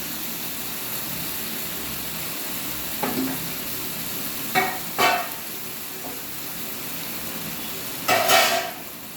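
Onions fry with a steady sizzle in a pan, broken by a few short scraping clatters as a spoon stirs them, close and fairly quiet with no voices.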